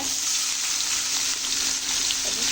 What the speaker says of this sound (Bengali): ইলিশ মাছ ভাজা তেলের মধ্যে আমি পেঁয়াজগুলো দিয়ে ভেজে নেব